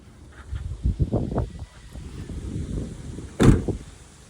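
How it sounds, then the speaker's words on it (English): A Camaro drag car's door shuts with a single solid thud near the end, preceded by shuffling and handling noises around the car. "the door shut nice."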